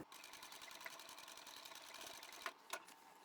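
Close, fast needle chatter from a sewing machine triple stitching the top edge of a pocket on a tote bag, a continuous even run with a couple of sharp clicks near the end.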